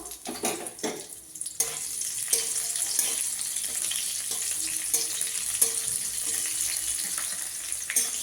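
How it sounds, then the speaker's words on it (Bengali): Nigella seeds and slit green chillies hit hot oil with a sharp initial crackle, then settle into a steady, close sizzle that continues evenly throughout with occasional small pops and clinks. "তেলের মধ্যে একটু কালো জিরে ফোড়ন দেবো চেরা কাঁচা লঙ্কা দিয়ে দেবো"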